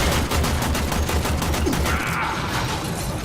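Rapid rifle fire from the video game Warframe, a dense run of loud repeated shots that stops abruptly near the end, leaving a brief quieter tail.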